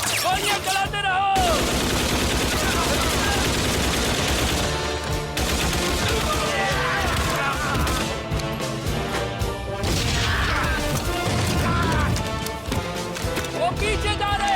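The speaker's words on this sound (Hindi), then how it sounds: "गोलियां चलाते रहो" Sustained gunfire and explosive crashes in a war-film battle scene, loud and dense throughout, with shouted voices mixed into the barrage.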